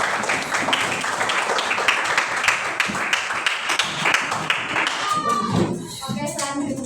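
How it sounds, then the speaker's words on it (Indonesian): Students in a classroom give a group a round of applause, with quick, busy clapping for about five seconds that then dies away under a speaking voice. "Beri tepuk tangan."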